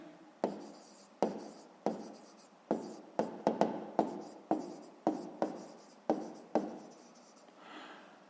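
A pen writes out a sixth-grade math exercise on paper in a steady series of short scratchy strokes, close and fairly loud, with brief pauses between bursts and no talking.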